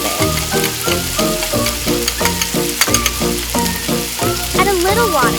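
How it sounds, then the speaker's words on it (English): Mini meatballs fry in a pan with tomatoes, cumin, salt and cardamom while being stirred, giving a loud steady sizzle with rhythmic scraping strokes throughout and no talking. "Finally, the meatballs. Stir everything together."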